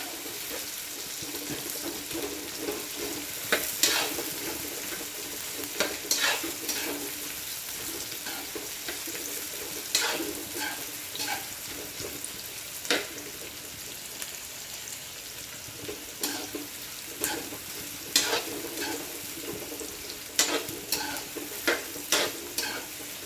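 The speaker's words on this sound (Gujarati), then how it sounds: "પછી ડુંગળી નાખી દઈશું ડુંગળી પૂરી લાલ નથી કરવાની સાધારણ લાલ કરવાની છે" Onions frying in a pan for a chana dal dish, with a steady soft sizzle and scattered sharp scrapes and clinks of a spoon stirring, close and moderately quiet, no talking.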